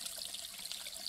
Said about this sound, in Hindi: आप देख सकते हैं कितना स्वच्छ पानी झरना से